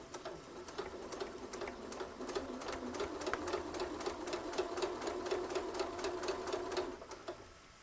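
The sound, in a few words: sewing machine stitching a quilted rug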